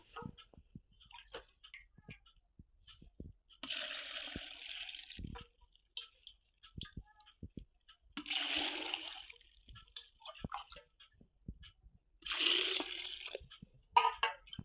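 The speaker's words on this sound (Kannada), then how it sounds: "ಇವಾಗ ನೀರು ಹಾಕು ಆಯ್ತಾ" Water is poured into a jar of gooseberries and green chillies for salted pickle. It comes in three separate close splashing bursts, with quiet gaps and small clicks and knocks between them.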